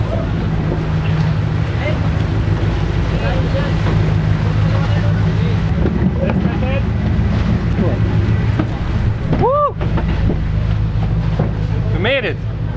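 Deep rumbling engine drone and wind buffeting as a ferry rides rough water after a typhoon, with voices talking and a couple of brief high squeaks.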